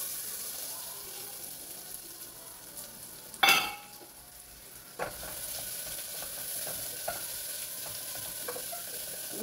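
Chopped onion and leaves fry in a pan with a soft, continuous sizzle, broken by one loud scrape and a couple of quieter stirring knocks, with no talking heard.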